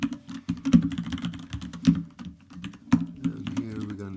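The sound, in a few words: typing on a computer keyboard while creating a C source file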